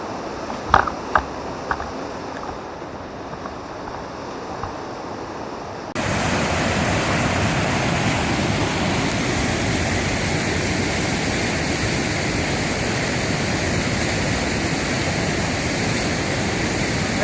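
Water pours over a spillway at old mill ruins in a broad, steady roar, faint at first and then suddenly much louder and closer, with a few light clicks early on.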